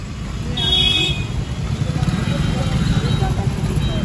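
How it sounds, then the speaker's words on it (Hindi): Idling cars and motorcycles rumble close by, stuck in a traffic jam on a village road, with a brief horn-like tone early on. People talk over the engine noise. "आज फिर से जाम लग गया है, ट्रैफिक जाम।"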